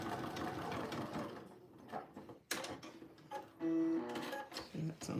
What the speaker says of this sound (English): So I'm increasing to a 5 stitch length and just doing a quick basting stitch.